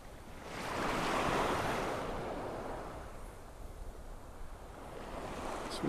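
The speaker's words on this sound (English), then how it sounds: "A few waves here." Waves breaking at Vanderbilt Beach on the Gulf of Mexico in North Naples, Florida: one surge of surf swells and washes in, then recedes into a softer hiss, with some wind noise and no talk.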